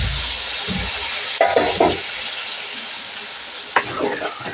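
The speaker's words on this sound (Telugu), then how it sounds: "ఇప్పుడు ఉడకబెట్టుకున్న చిక్కుడుగుడ్డలు దీంట్లో వేసుకుంటాం." Boiled broad beans tipped into a hot pan of oil and chili, a steady sizzle with a few clattering scrapes and stirring knocks, close by, with faint speech in the background.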